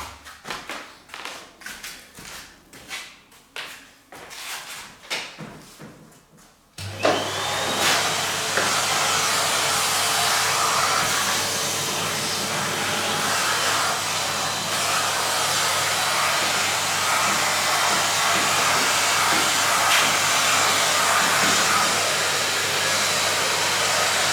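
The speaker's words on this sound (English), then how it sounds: "that's where we do want the vacuum" After several seconds of tapping and handling noises, a loud vacuum cleaner starts up and drones continuously with a steady whooshing roar, cleaning soil from an 1865 Forster & Andrews pipe organ during restoration.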